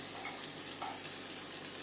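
Ground masala sizzles and fries steadily in a hot pan for curry leaf chicken chops, a close, continuous crackle with faint stirring.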